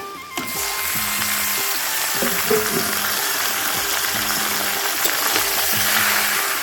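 Chicken hits a pan of ghee with potatoes and spices, a close, steady sizzle with recurring scraping stir strokes throughout and no speech.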